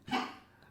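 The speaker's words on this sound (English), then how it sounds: "that's the dog in the background" A single short dog bark sounds in the background indoors, fairly faint and alone, with no talk over it.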